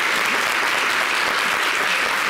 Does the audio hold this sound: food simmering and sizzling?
no